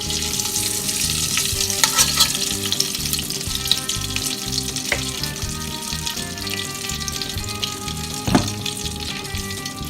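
Palm oil heats and sizzles steadily in a pan with a continuous frying crackle, a few sharper pops and a louder spatter near the end, no talking.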